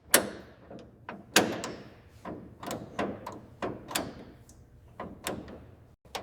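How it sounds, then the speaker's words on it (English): A 1969 Ford Mustang Boss 429's door is eased open in a workshop: a close run of light clicks, latch knocks and soft thumps, spaced irregularly, with no talking. "The door is opened carefully."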